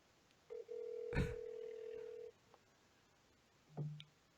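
A telephone call to a GameStop store: a steady tone lasting over a second, a click, then a short lower ringback tone, quiet and heard through a phone handset.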